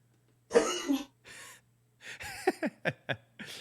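A few breathy coughs and gasps, then a quick run of short sharp coughs in a row, close and fairly loud, with brief pauses between bursts.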